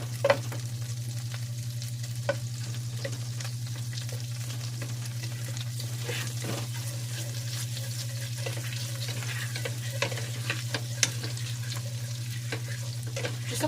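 Unsalted butter melting in a pan, a gentle continuous sizzle with small crackles and occasional light pops, close up over a steady low hum, no voices.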